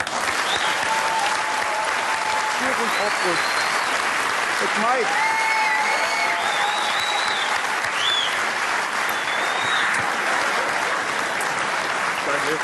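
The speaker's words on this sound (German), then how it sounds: "Doch mal einen Applaus für Mike." Sustained, loud audience applause for Mike at a comedy show, dense clapping filling the whole stretch with cheers and voices calling out over it.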